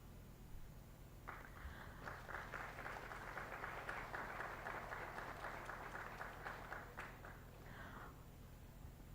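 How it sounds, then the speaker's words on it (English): Audience applause at a ministry Statistics Day celebration for essay competition winners, a steady wash of clapping from many hands that swells and holds for about six seconds at moderate distance. "Let us all give a big round of applause for the winners of the on-the-spot essay writing competition."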